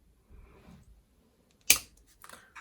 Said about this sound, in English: take my little clipper scissors now, and I'm going to just go in there and clip that off